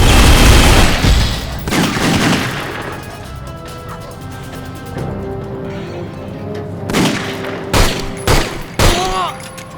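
Gunfire in The Godfather video game: a loud, dense burst of overlapping shots and crashes at the start, then scattered sharp single shots later, with shouting voices mixed in.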